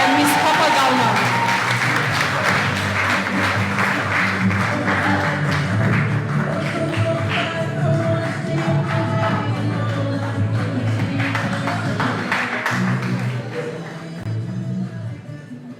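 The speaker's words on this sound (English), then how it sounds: "please give a round of applause to Mr. and Miss Divine Word University, Mr. Jermaine Sella and Miss Papa Galma" Pageant audience applauds as Mr. and Miss Divine Word University are introduced at the Mr & Ms Madang introduction night, scattered clapping and taps blending with music and crowd noise before fading toward the end.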